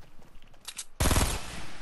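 A Fortnite weapon fires in Tilted Towers: quiet clicks and shuffling, then one sharp, loud gunshot that rings out with a short decaying tail.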